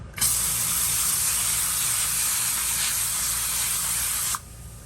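Steady, loud spray of water from a shower blasting into a Dyson handheld vacuum, hissing continuously for about four seconds before cutting off abruptly, with no talking.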